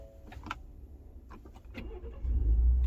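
A 2018 Ford F150 pickup truck with brake lights stuck on starts up: a brief crank and then the engine catches into a loud, steady low rumble at close range, with faint clicks and rustling beforehand.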